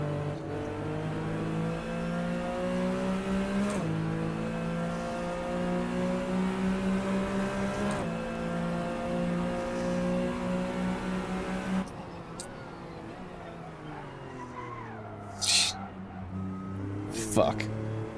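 A race car engine in Assetto Corsa revs and shifts through gears with steady rising whine, loud and close, while someone talks over it.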